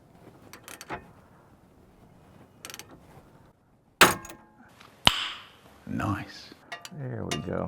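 A jaw puller pops a ball joint off the center link of a 1987 Plymouth Gran Fury. Metallic clicks and tool handling lead to a sharp, loud pop, followed by clattering parts nearby.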